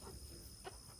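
Hens perched on a hay bale give a few faint, brief clucks against a quiet barnyard background.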